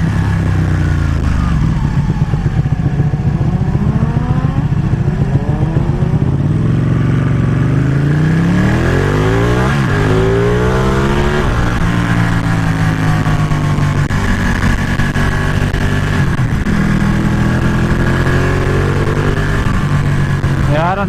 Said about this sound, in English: Looks like we picked up a few bikers here.